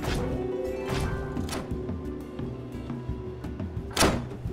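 A Minecraft: Story Mode door swings open with a series of low mechanical thuds and grinding, ending in a sharp clack near the end.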